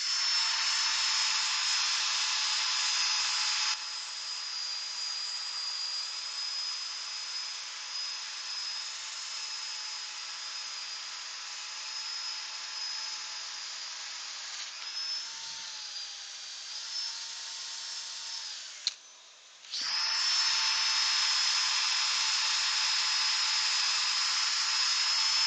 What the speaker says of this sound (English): that's the sanding done.